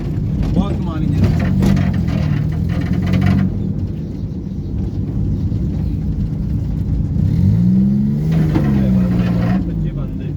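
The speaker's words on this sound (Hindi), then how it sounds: "इसका इंजन बहुत कमाल है यार" A Suzuki Khyber car engine revs hard during an informal race, swelling twice in loud rising and falling sweeps over a steady rumbling drone, with people talking over it.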